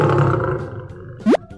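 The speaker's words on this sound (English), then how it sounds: "the lion roars." A cartoon lion in a toddler spelling show lets out a loud, growling roar that fades away, followed by a quick rising cartoon swoop.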